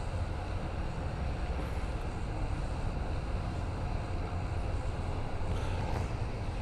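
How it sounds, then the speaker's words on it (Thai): Airplane engine noise around a skydiving jump, heard as a loud, steady, unbroken roar that fills the whole stretch with no voices. "เครื่องบิน"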